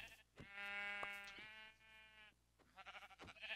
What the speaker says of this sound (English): Right now, I'm looking for sheep.